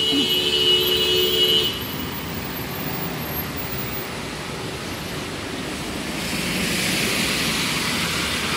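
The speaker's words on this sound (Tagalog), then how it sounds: "Nagbuhol ang traffic." Heavy rain pours over a jammed road, a steady broadband wash with car and traffic rumble underneath, a brief horn-like tone near the start and the downpour swelling louder toward the end.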